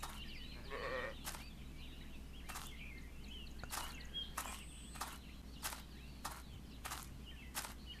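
Sheep bleat in the survival game Elsewhere, short calls recurring every second or so over a steady ambient game backdrop, moderately near, with no talking.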